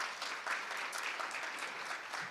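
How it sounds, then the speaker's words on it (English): An audience at a Belle Isle Conservancy celebration in Detroit gives a round of applause, dense continuous clapping from many hands, steady and moderately loud with no voices over it. "Let's give them a round of applause again"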